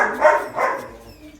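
Two quick dog barks ring out close by in a kennel, followed by a fading whine.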